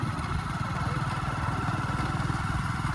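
A motorcycle engine runs steadily on a farm outing, its low rapid rumble chugging evenly and loud up close, with no talk over it.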